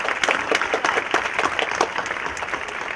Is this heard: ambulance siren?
no